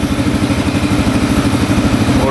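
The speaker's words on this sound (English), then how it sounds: "it's running a lot better now. Idling really nicely too without the choke on." A cheap street-legal dirt bike engine idles steadily without the choke, a close, loud, even thumping putter with rapid regular pulses and no voices.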